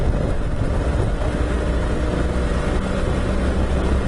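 A motorcycle with a worn, slipping clutch pulls away gently from a junction, its steady engine drone close and continuous with low rumble and wind, no talk over it.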